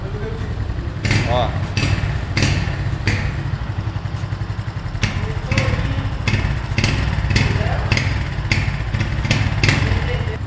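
A Honda Pop 110i motorcycle with a modified exhaust runs at idle with a low, steady putter, broken by repeated sharp pops and brief revs, while a voice briefly calls out.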